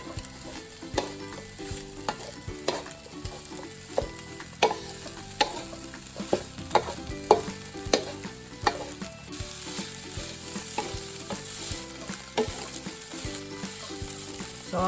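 Carrots stir-frying in a pan for Thai spicy chicken fried rice, a steady close sizzle broken by repeated sharp clacks and scrapes of a utensil stirring against the pan.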